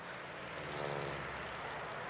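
Airplane engine drone, a steady low propeller-like hum with faint tonal overtones, continuous and moderately distant, with no talk.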